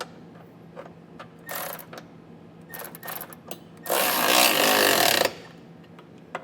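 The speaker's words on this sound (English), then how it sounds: "with our 17mm socket, we're going to come back, get everything snugged down" A power tool with a 17mm socket tightens bolts on a Curt trailer hitch receiver on a 2022 Kia Niro EV, giving short whirring bursts and then one longer sustained buzz, loud and close.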